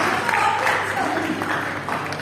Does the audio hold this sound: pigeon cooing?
no